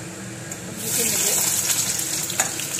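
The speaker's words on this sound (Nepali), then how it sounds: "अब चाहिँ म तेल एड गर्नेछु, खाने तेल। अनि मैले फ्लेभरको लागि मात्रै यो चाहिँ बिया निकालेको सुक्खा खोर्सानी पनि एड गर्छु।" Dried red chillies with the seeds removed fry in cooking oil, a steady loud hiss of sizzling that swells in after a quiet start and carries on without break.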